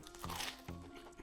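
A breaded burger with a steak, cheddar, vegetables and house burger sauce gives two sharp, close crunches as it is bitten into, short and crisp against quiet surroundings.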